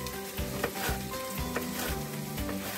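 Chopped onion and leeks sizzle softly in a pan for leek potato soup, a quiet, continuous crackle with a few light stirring knocks beneath.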